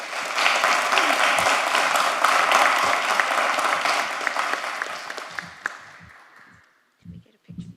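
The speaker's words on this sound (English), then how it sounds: "a round of applause for all of them" Sustained loud clapping from a sizable crowd, steady for several seconds before fading out, followed by a few brief voices.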